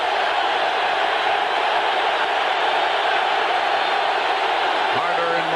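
Broadband roar of a packed stadium crowd at an American football game, 49ers at Rams in 1991, holding steady and loud throughout with no letup.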